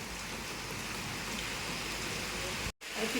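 Steady rain falls as a moderately quiet, even hiss throughout, cut by a brief dropout near the end before the patter comes back.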